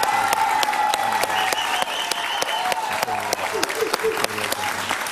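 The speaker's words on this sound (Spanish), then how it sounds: "pido un aplauso para él, por favor" Studio audience applauds steadily for a guest, a former Colombian president, at a Spanish-language television interview; dense, continuous clapping with some overlapping voices under it.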